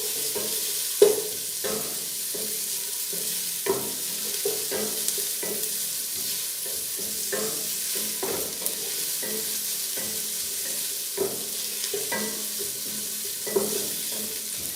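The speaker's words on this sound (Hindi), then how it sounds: "अब हम इसे जो है जिस तरह से रेड ब्राउन होता है हम उस तरह से हम प्याज का कलर करेंगे।" Onions frying in oil until red-brown, for a trotters (paye) curry: a continuous close sizzle with frequent light clinks and scrapes of stirring throughout, no one speaking.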